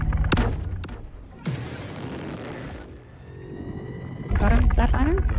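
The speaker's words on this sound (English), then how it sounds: "I think he's shooting at me, but I mean, he's shooting all over the place" Gunfire in a shooter video game, heard as a few sharp close shots followed by a long rushing blast and more loud bursts, with engine-like whines and other game noise.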